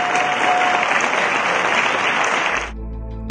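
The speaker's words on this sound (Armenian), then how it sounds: "ձեր ծափարություններից հետո։" An indoor audience at a film event breaks into sustained, dense applause after a speaker is introduced, loud and even throughout before cutting off near the end.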